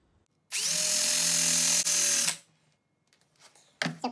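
A Harbor Freight axe edge is worked by a powered sander with 220 grit sandpaper, giving a steady whirring hum for about two seconds before it winds down, followed by a brief restart.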